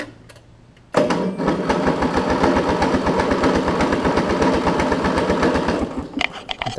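A Briggs & Stratton opposed-twin engine on a Craftsman riding mower cranks and fires up after a quiet moment, then runs with a loud, rapid, rhythmic chug close by.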